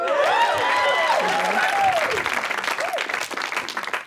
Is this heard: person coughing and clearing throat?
no